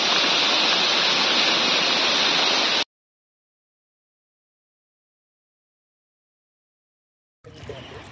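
Heavy rain from Cyclone Remal pours down in the Sundarbans, a loud dense hiss for nearly three seconds, then silence until the downpour returns more faintly at the end.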